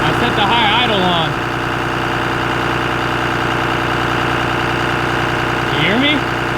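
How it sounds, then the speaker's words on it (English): A Cummins diesel truck engine runs at a set high idle, a steady loud rumbling drone close by, with voices talking briefly at the start and end. "You hear that high idle? I set the high idle on."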